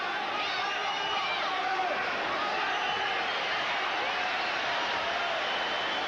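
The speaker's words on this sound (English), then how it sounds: "Crowd reacting against the slapping attempts of Jorge Paez." A boxing crowd at a junior lightweight title fight reacts with a steady, dense roar of cheering and murmuring, filling the arena evenly throughout.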